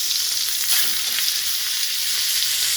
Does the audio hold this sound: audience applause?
no